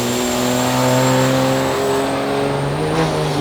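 A car engine runs steadily, its droning harmonics rising slightly as it revs, close and loud throughout with no talking.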